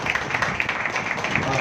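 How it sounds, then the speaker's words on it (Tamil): A church congregation at a Sunday Advent service applauds, a moderate, continuous patter of many hands with faint voices mixed beneath it. "இந்த நிர்வாகிகளுக்கெல்லாம் ஒரு சத்தமா ஒரு கைத்தட்டல் கொடுத்துடலாமா?"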